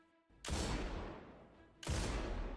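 Two loud, booming Destiny 1 hand cannon shots from the Ace of Spades, each a sharp blast with a long rumbling tail, spaced about a second and a half apart.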